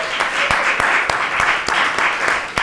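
Applause from an audience at a South African arts and culture panel event, welcoming a music legend; many hands clap steadily with a few sharper individual claps, and some voices murmur underneath.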